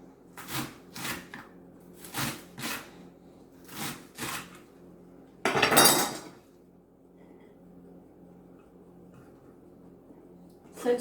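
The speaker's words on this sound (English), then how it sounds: "And keep chopping." Spring onions are chopped with a knife on a cutting board in a home kitchen, giving a few soft, close taps in small clusters, then a louder rustling scrape, with quiet room noise between.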